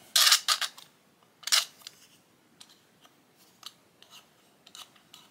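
Crisp scraping snips of a razor blade trimming, a few sharp bursts at the start, then lighter, quieter scrapes spaced out, close by.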